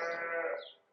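A single close, clear sheep bleat, a wavering nasal cry lasting under a second.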